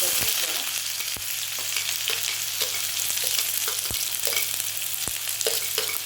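Onion frying in hot oil with mustard seeds and cumin in a kadhai, a continuous close sizzle broken by sharp spoon clacks against the pan every second or so, no voices.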